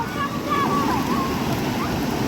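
Sea waves wash and surge steadily at a beach, a continuous broadband rush of surf with water sloshing close by, while voices and tonal chatter run faintly on top of it.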